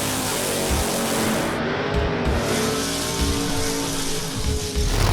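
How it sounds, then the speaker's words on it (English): A big rig truck does burnouts at the Famoso drag strip in Bakersfield, California. Dense tire squeal and engine roar run continuously and loud, with a few sharp pulses near the end. "Let's see the burnouts."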